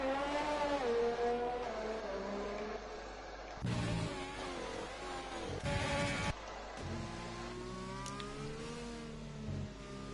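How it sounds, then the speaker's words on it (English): Race car engines roar in a racing video game during a qualifying session, a sustained high revving drone with shifting pitch as cars accelerate and change gear, broken by louder passes. "So we're just seeing Mars now coming round the final few corners, and he's diving into the pit lane, Lee."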